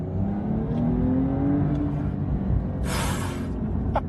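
A Porsche 911 with a manual gearbox accelerates hard from second gear, its engine drone rising steadily as a loud, continuous whine climbs in pitch, with a brief burst of hiss partway through.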